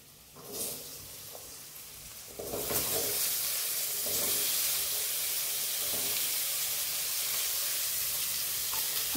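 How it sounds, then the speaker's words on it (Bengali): Potatoes being fried in oil in a pan, a quiet start with a short clatter, then a loud, dense sizzle that holds steady and close for several seconds, with no speech. "এবার আলুটা ভেজে নেব।"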